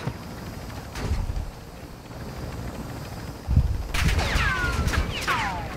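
Assault rifle bursts crack out in a Call of Duty DMZ firefight, a few short volleys spaced over several seconds, the later ones louder and nearer, over a windy, rumbling background with whistling tones near the end.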